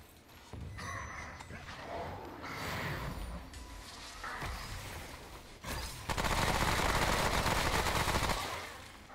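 Gunfire in the dark-fantasy shooter Remnant: From The Ashes, sustained bursts and rattling shots over a dense, noisy game soundscape that grows louder and harsher toward the end.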